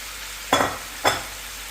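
Leftover Moroccan charmoula poured into a frying pan with white fish, giving two short loud bursts of sizzling close up, separated by a half-second pause.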